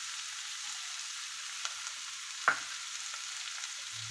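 Garlic paste and beans sizzle steadily in a pan for fried rice, a continuous mid-level frying hiss with a single sharp clink of stirring partway through and a low thump near the end.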